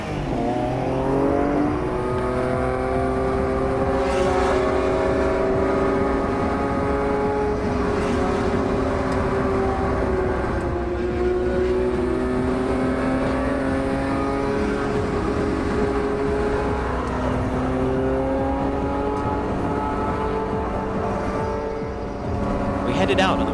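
Eleven highly modified Honda NSX sports cars race together on Tokyo's Wangan Expressway, their engines a loud, close, continuous high-revving drone that swells and dips as they accelerate through the whole stretch.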